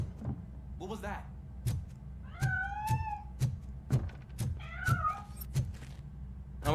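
Cat meows in the video game RoboCop: Rogue City, several short rising and falling calls spread over a few seconds, heard amid faint game ambience and soft clicking footsteps.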